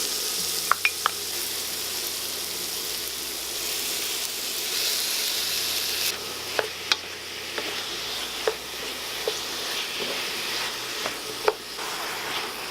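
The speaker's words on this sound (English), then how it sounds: "I'm going to use that to saute our aromatics." Garlic, onions and jalapeno peppers sizzle steadily in hot venison fat, a loud continuous frying hiss broken by occasional sharp clicks and scrapes of stirring.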